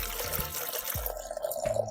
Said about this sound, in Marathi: आता आम्ही डब्यामध्ये औषध आणि पाणी टाकणार आहे